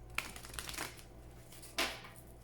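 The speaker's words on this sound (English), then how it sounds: "Please think of your question as I shuffle the cards." A deck of oracle cards is shuffled by hand, giving a close series of papery riffles and flicks with a sharper slap near the end, over a low background hum.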